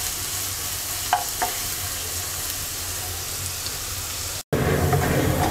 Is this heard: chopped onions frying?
yes